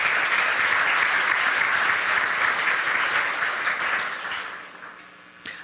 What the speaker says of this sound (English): Please give a round of applause for Jamar.